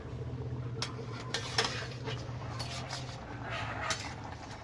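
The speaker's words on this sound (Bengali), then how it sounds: "এটা দিয়ে দেবো এবার, দিয়ে ঢেকে দেবো" A lid is set over a pot of mutton cooking on the stove, a few close metallic clinks and clatters of cookware against a steady low background hum.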